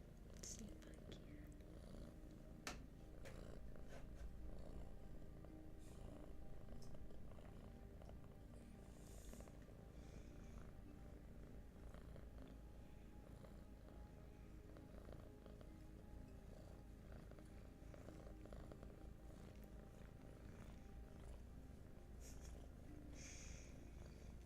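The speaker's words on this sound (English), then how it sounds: "it's purring and grooming time" A cat purrs softly and steadily at close range, a quiet continuous rumble with faint rustles of grooming and small sounds from the room around it.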